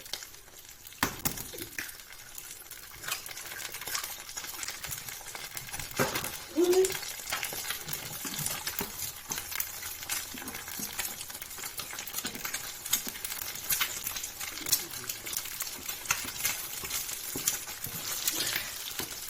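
Two eggs added to batter for fried oysters fry in a hot pan, giving a continuous faint sizzle broken by occasional scraping and clicking from stirring, with no one talking.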